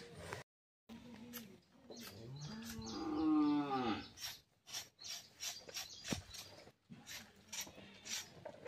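Bullocks on the Bail Pola festival day give a long, drawn-out moo, close and fairly loud, amid quieter farmyard background sounds and scattered clicks, with brief silent gaps.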